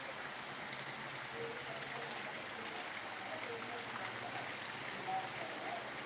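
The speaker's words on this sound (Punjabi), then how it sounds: "ਬਹੁਤ ਜ਼ਿਆਦਾ ਬਾਰਿਸ਼ ਹੈ ਭਾਈ ਜੀ" Heavy rain pours down as a constant, even hiss, fairly faint and diffuse, with no clear voices over it.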